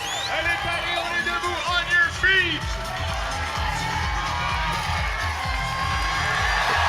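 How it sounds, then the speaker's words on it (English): A crowd at the CrossFit French Throwdown 2019 elite event cheers and shouts in a large arena, with whoops and rhythmic stomping or clapping underneath, while an announcer talks over it. "Crowd coming alive out here."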